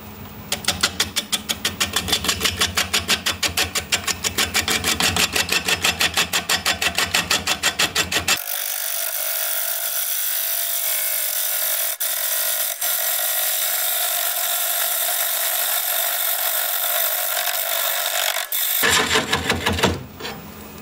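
A wood lathe turns a honeysuckle root, giving a rapid rhythmic thumping from the uneven workpiece, then a smoother, high whirring stretch before the pulsing returns briefly.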